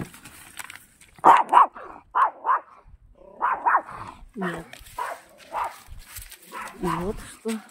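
An angry dog barks and growls in a string of loud, close, irregular barks, with a person's voice speaking between and over them.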